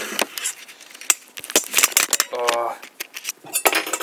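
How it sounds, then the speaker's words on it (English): Sharp clicks and scrapes of a knife cutting a hard-boiled egg for an open-faced sandwich, close and irregular, with a brief tonal ring of utensils partway through. "And you cut the egg"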